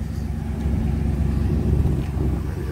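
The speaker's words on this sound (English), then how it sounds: "I'm going to do a little bit more driving around here." A car drives slowly through storm-damaged Fort Myers Beach, a steady low engine and road rumble heard from inside the vehicle, with no talking.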